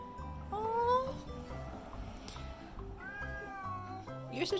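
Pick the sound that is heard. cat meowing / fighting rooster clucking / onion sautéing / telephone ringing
cat meowing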